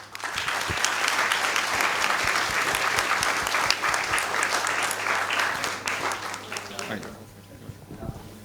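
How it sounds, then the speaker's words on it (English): An audience at a business case competition final applauds a team as it is introduced, sustained crowd clapping for several seconds that tapers off near the end, with a voice briefly audible in the background. "Give them a warm applause."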